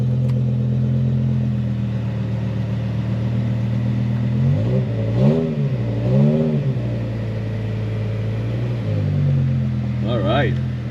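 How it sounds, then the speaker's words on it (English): A low-mile car's engine at a dealer-only auction settles into a steady idle, then gets several sharp blips of the throttle midway and again near the end, loud and close. "It's fired right up."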